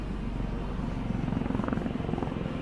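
A helicopter returns overhead in the Colorado Rockies, its low rotor thumping steady and fairly loud, the beat growing more distinct partway through.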